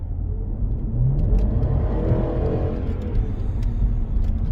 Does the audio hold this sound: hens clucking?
no